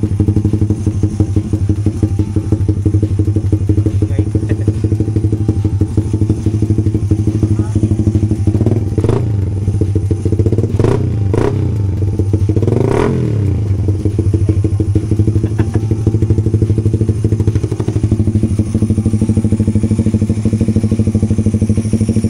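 A Suzuki Raider 150 Fi motorcycle fitted with a larger throttle body idles loudly nearby with a steady putter, then revs sharply several times in quick bursts before settling back to idle.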